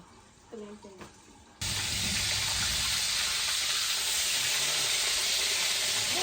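Loud, steady sizzle and hiss of fish frying in oil in a pan starts abruptly after a brief quiet moment with faint voices, then continues unbroken and close.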